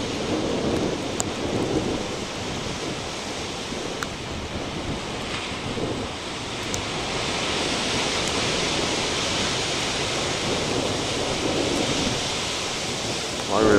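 Big ocean waves crash onto the shore in a steady, loud broadband roar of surf that fills the whole stretch, with wind buffeting the microphone throughout.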